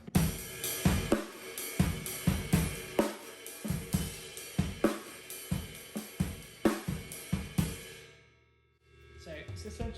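A steady drum kit groove played with the drummer's dominant hand moved off the hi-hat onto a different part of the kit, with crisp regular hits that ring out and fade to near silence at the end.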